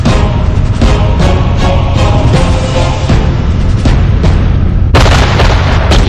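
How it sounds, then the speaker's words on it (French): Massed artillery barrage from thousands of cannons and Katyusha rocket launchers pounding enemy lines at Stalingrad, a continuous loud roar of overlapping booms and blasts with no pauses, swelling sharper near the end. "3000 canons et orgues de Staline écrasent les lignes ennemies."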